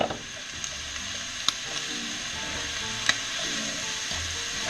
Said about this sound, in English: I got it down at a low simmer